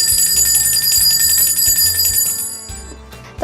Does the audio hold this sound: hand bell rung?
yes